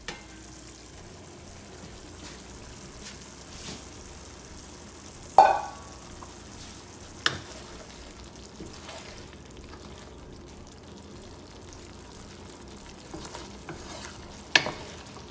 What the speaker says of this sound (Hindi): प्यूरी डाल के इसको थोड़ा सा फ्राई करेंगे